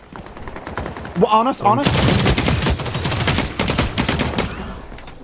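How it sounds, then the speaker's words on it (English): Rapid automatic gunfire erupts in The Cycle: Frontier, a sustained burst of loud sharp shots following a brief clip of a voice, with a few more spaced reports trailing after. "Okay, we got gunshots"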